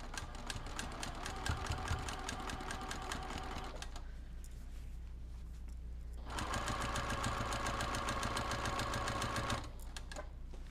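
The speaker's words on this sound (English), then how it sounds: "I'm just gonna stitch on the edge." A sewing machine stitches along the edge of a quilt label in steady rapid runs, pausing once briefly midway before resuming, close and fairly quiet with no talking.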